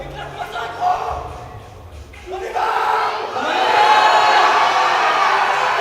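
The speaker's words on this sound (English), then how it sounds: "We'll let you hear the crowd for that one." An arena crowd at the 2026 European Open Classic Powerlifting Championships cheers a new champion's victory lap. The roar swells louder, with shouts and whoops, while a voice talks over it.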